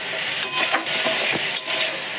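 Vegetables seasoned with salt and turmeric fry for chowmein in a pan, giving a steady, close sizzle with a few scraping stirs and no talking.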